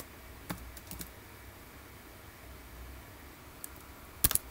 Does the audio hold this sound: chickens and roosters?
no